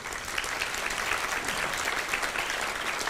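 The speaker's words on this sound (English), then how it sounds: "y'all get a round of applause from us" Audience at an annual meeting applauding, a steady dense wash of many hands clapping at close to moderate distance, sustained evenly throughout with no voices standing out.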